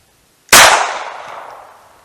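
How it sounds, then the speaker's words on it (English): A single sharp report from a Taurus TX22 pistol firing a Winchester Silvertip .22lr hollow point, loud and close, with a short decaying ring after the crack. "Winchester Silvertip 37 grain plated segmented hollow points through the Taurus TX22"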